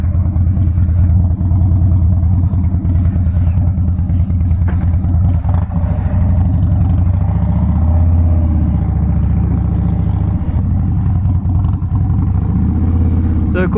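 A Harley-Davidson Dyna Wide Glide motorcycle's V-twin idles and rumbles steadily close by, with a deep uneven low-pitched throb and occasional light revs and clatter.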